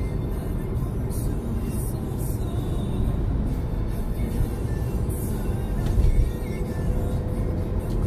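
Steady road noise from inside a moving car, a constant low rumble with tire hum, swelling slightly near the end.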